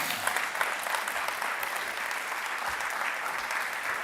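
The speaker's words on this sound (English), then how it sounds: "Round of applause for the judges." Audience at a startup accelerator showcase claps steadily for the judges, a dense, even wash of applause filling the room without a break.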